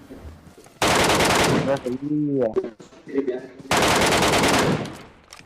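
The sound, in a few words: gunfire in the video game BGMI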